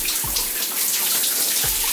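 Shower water runs steadily over hair as flour is rinsed out, a loud, even hiss with a couple of brief low thumps.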